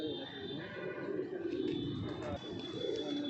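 Punjabi pigeons coo in soft, low murmuring calls that repeat over a steady, noisy background, close by and moderately loud.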